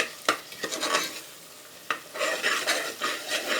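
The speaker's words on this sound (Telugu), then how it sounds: "అది ఎర్రంగా వచ్చేదాకా మనం దానిని కలుపుతూ ఉండి దాన్ని ఆయిల్ పైకి తేలేదాకా మనం దాన్ని స్టవ్ మీద పెట్టి కలుపుతూనే ఉండాలి" Mutton curry masala frying in oil sizzles steadily while a spoon stirs and scrapes against the pot in irregular bursts, close and fairly loud.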